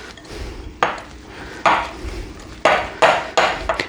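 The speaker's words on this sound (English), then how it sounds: "I thought I'd show you guys that I can use a bowl and whisk" Whisk striking the sides of a mixing bowl while stiff whoopie pie batter is beaten by hand, heard as a few sharp, uneven clinks and scrapes about a half second to a second apart, close and fairly loud, with no voices.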